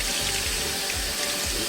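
Running water pours steadily over orchid roots, a loud close broadband rush with a faint low rhythmic gurgle underneath.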